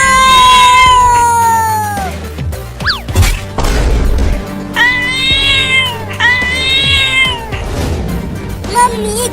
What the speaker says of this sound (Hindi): मम्मी घर का दरवाजा तो बंद था, तो एक खतरनाक बिल्ली घर में कैसे आ गई?